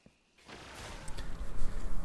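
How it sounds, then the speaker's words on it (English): Heavy rocket launcher firing in the video game Destiny: a sharp launch then a building roaring blast and rumble filling the two seconds, loud and alone without talk. "Especially the rocket launcher, which I'm using right now."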